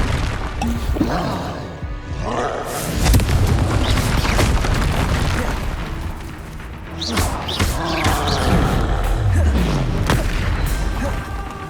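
In Hogwarts Legacy, a player's Confringo fire spells go off as a string of loud booming blasts and crashes, and Expelliarmus spells are cast between them, all close and dense with layered impacts, while a voice keeps calling out the spell names.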